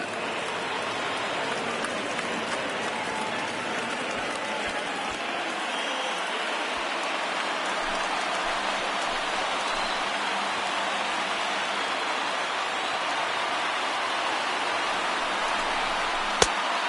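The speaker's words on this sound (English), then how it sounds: "listen to this crowd now. They are really into this." A baseball video game crowd roars in a steady, loud wash of cheering during a late rally, unbroken and dense throughout, with a sharp click near the end.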